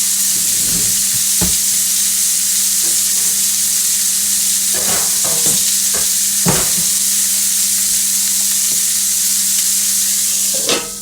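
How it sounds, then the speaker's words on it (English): Thick burger patties sizzle on a hot griddle with a loud, dense, unbroken hiss up close, dotted with occasional spatula taps and pops. "I'm putting my burgers down."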